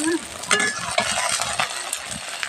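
Sliced onions fry in a pan for a potato and onion curry, crackling brightly as a spoon stirs and scrapes them in short bursts, close and unaccompanied by talk.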